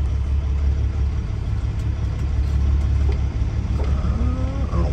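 A car engine hums steadily at close range as the vehicle pulls into a bay outside a Walgreens, with a faint squeal near the end and no talk.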